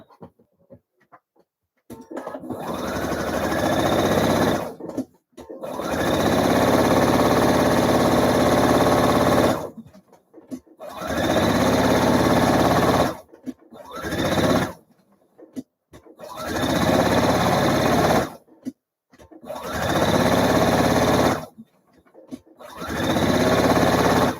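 A sewing machine basting the raw edges of a double-faced flounce for a blouse, running in several loud bursts of steady whirring stitching separated by short pauses.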